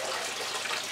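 Steady broadband rush of water flowing over a grease table as gravel is washed across it for diamond recovery, continuous and close with no talk.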